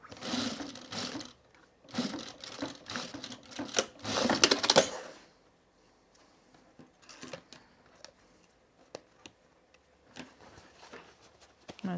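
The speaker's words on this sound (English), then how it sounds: "let's sew the flap on" A sewing machine stitching a flap onto a fabric bag, loud rapid bursts of sewing in the first half, then quiet with scattered clicks and fabric handling.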